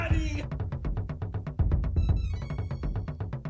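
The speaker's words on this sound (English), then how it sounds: "Those are my text message notifications." A phone's text message notification: a quick run of short, evenly spaced electronic chimes repeating rapidly, with a brief burst of other sound at the very start.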